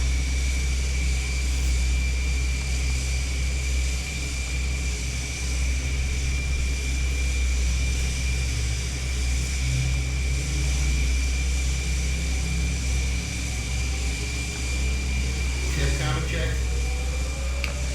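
A second SR-71 Blackbird jet engine starts in a flight simulator game, a continuous loud engine drone with a steady high whine, and a brief sweeping tone near the end.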